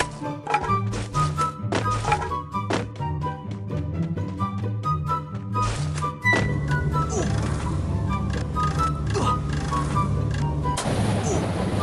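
Gunfire in the Free Fire video game: repeated sharp shots and thuds in irregular bursts, with game music and effects underneath, then a denser rumbling stretch toward the end.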